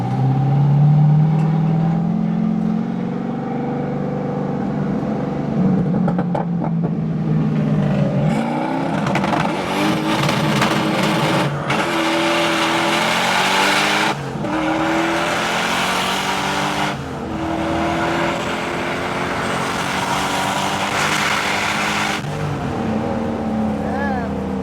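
An LS V8-swapped BMW E46 with a failing MAP sensor revs and accelerates hard on a quick drive, its loud engine sweeping up and down through repeated gear pulls from close inside the car, with people talking over it.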